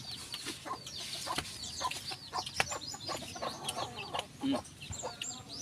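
Birds clucking among fruit trees with ripe fruit, a steady stream of close, scratchy clucks and chirps with rustling, no talk.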